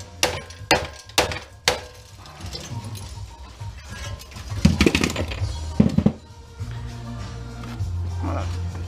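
Glass from a rear projection TV being scrapped cracks and clinks in several sharp impacts, then rattles and thunks around as parts are handled, followed by low droning and someone talking.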